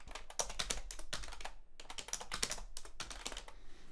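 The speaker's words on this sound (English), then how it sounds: "you can just start typing" Quick, close bursts of clacking on a computer keyboard, two rapid runs separated by a brief pause, as sticky-note text is typed into a Miro board.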